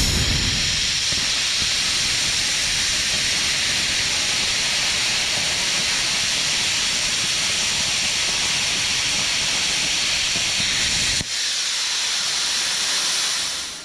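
A YesWelder CUT-55DS plasma cutter slicing through 5/8 inch stainless steel: a loud, steady, close roaring hiss that runs unbroken for about eleven seconds, then drops briefly to a quieter airy rush.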